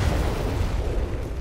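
An explosion in the video game Call of Duty: Modern Warfare 3 multiplayer produces a dense, heavy low rumbling boom that stays loud and sustained across the short moment, with no speech on top.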